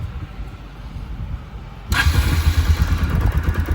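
Bajaj Pulsar motorcycle engine running after a part was removed for a pickup fault, a steady low throb whose loudness jumps abruptly midway as the revs rise and hold, close by with no talking.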